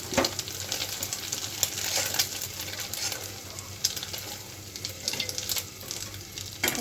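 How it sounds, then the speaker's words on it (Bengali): Onions fry in a pan, sizzling steadily at moderate level while a utensil stirs with occasional scraping clicks, before an egg is added. "পেঁয়াজটা প্রায় ভাজি হয়ে গেছে, এখন ডিমটা দিয়ে দেবো।"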